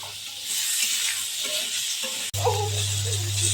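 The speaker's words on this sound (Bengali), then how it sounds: "ঝিঙে ভাজা হচ্ছে" Ridge gourd fries in oil in a wok, giving a steady hiss of sizzling with occasional stirring. The sizzle briefly cuts out partway through and then resumes close and clear, with no voices.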